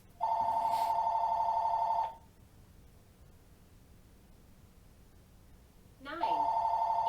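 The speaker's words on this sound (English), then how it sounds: "my phone is ringing" A telephone rings in two long electronic bursts separated by a few seconds of near silence, the tone close and fairly loud against a quiet room.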